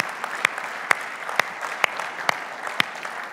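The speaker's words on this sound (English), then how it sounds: "So can we now thank them and give them a big round of applause?" A church congregation claps in thanks, a moderate, fairly sparse round of applause with distinct individual claps ringing out over a softer bed of hands.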